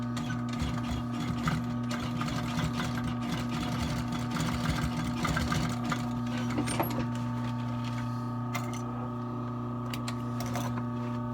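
A sewing machine stitches a seam on a restored Tony Lama leather boot, two stitches per seam, with a steady, continuous mechanical whir and hum and faint ticking running throughout.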